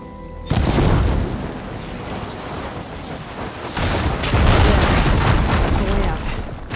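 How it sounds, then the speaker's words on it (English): In the Horizon Forbidden West video game, fire ammo sets off blaze barrels, producing loud, deep booming explosions with a sustained rumbling roar that swells again partway through. "Hitting those blaze barrels with fire ammo should do the trick."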